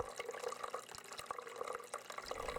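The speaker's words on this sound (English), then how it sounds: "we've got the fake rock beginner waterfall here" Water runs continuously over a homemade fake rock beginner waterfall, a steady close trickle and splash with small drips and no talk.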